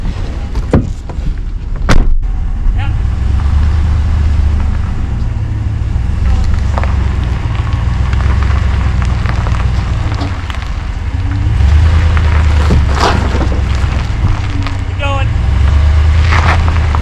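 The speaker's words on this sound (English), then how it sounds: "let's go get in the truck and then I'll start driving forward" A truck driving forward on an off-grid mountain property during water collection, its steady low engine rumble continuous under wind buffeting and occasional voices.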